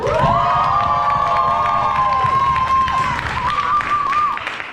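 Young members of an audience cheer loudly on a countdown, high shouts and sustained yells with scattered clapping forming a continuous close roar that tapers near the end.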